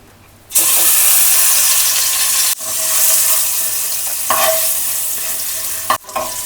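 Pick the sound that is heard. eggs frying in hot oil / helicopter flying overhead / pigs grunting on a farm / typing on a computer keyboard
eggs frying in hot oil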